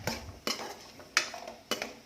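A utensil scrapes and taps against a pan while curry leaves, coriander and ginger are sauteed, giving about four distinct stirring strokes at a slow, even pace over a faint background, with no talk.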